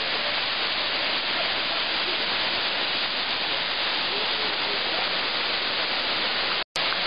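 Narinets waterfall in Ukraine roaring steadily as a dense, constant rush of broadband water noise, close and loud throughout, broken only by a brief dropout near the end.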